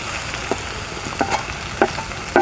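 Spiced onion and mashed potato kachori filling with chilli powder and garam masala is stirred in a pan, a soft steady sizzle broken by four sharp spoon scrapes and taps against the metal, with no talking.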